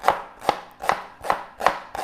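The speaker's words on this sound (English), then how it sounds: "wash the leek. And this is just something a little different." A knife chops a leek steadily on a board, about five or six crisp, evenly spaced strokes close up, with no talking.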